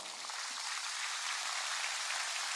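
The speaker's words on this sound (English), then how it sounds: "Can we give our system a round of applause?" A round of applause from a conference audience, dense and even hand clapping that holds at a steady level the whole time, with no voices on top.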